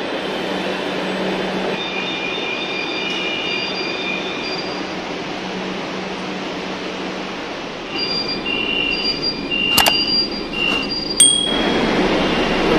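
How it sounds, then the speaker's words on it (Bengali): A metro train on Kolkata's Orange Line pulls into an underground station and runs on, a sustained rumble with high-pitched squealing wheels and sharp metallic screeches near the end, loud and close. "আমাদের মেট্রো চলে এসেছে।"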